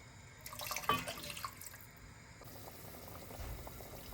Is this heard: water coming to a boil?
yes